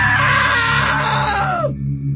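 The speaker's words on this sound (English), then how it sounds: "Now that was a great scream." A woman's loud, sustained scream in What Remains of Edith Finch, a shrill cry that holds for well over a second and then bends downward and cuts off abruptly, leaving a low hum behind.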